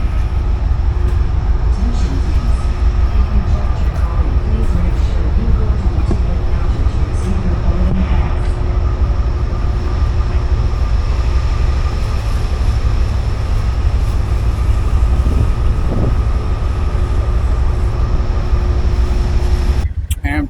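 Amtrak Auto Train rolling on the rails between Lorton, Virginia and Sanford, Florida, heard from onboard as a loud, continuous low rumble with steady rail noise throughout and a voice talking underneath.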